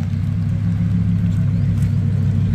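A Lamborghini Performante sports car drives past at a car meet, a steady loud low engine rumble filling the whole stretch without pause.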